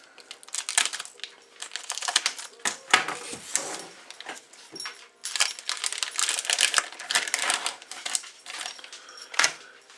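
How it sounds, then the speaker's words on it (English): Greaseproof paper crinkling and rustling in close, repeated bursts while making pepperoni-topped bread, with short pauses between handlings and a few sharper crackles. "And my second piece of greaseproof paper."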